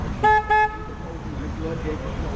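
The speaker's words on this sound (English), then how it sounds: "I am going to honk the horn 2 times, so don't be alarmed." A loud river cruise boat horn honks twice in quick succession, two short blasts, followed by a quieter rumble of traffic and background noise on the San Antonio River Walk.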